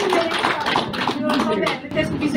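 An audience at a public speaking event claps together in a dense, sustained patter while a voice talks over the applause.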